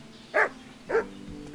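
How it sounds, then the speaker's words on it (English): A dog in the medieval video game Kingdom Come: Deliverance gives two short, close barks about half a second apart over a quiet game background. "but there's a dog. Hey, dog."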